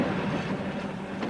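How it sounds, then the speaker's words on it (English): A narrow-gauge electric Pullman train runs through the Bernese Oberland toward the ski resorts, giving a steady close rumble of wheels on track with a faint rhythmic clatter, no voices. "An electric train just out of its box, taking the corners like a Hornby model"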